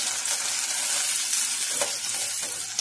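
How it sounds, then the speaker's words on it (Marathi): Garam masala frying in oil gives a steady, bright, close sizzle with faint stirring throughout. "आधी गरम मसाला टाकून घ्यायचंय, चांगला परतून घ्यायचंय तेलामध्ये."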